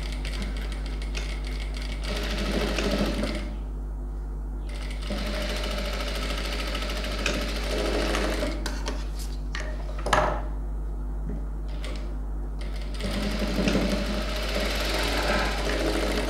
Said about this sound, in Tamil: டபுள் ஸ்டிச் போட்டேன்